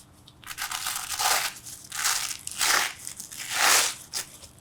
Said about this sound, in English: we have a Velcro strip with two of our lift the dot studs that you can peel back.